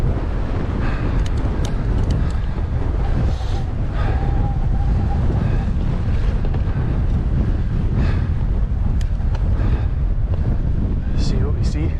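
Strong wind buffets a hilltop in the Sidlaws during a mountain bike ride, a loud continuous roar of gusts battering the microphone with a few brief sounds poking through.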